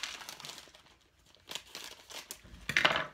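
Plastic candy bag holding several flavored candies being cut open with scissors, a few short crinkling and snipping bursts, close and fairly quiet, with no talk.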